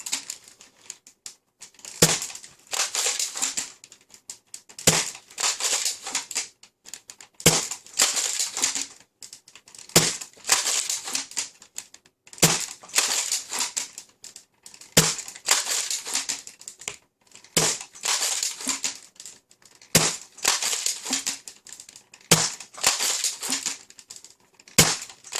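A foam dart blaster fitted with a 350 mm Rifling Swin barrel firing ghost darts, about ten sharp shots spaced every two to three seconds, each followed by a loud hissing, crinkling rush as the blaster is primed.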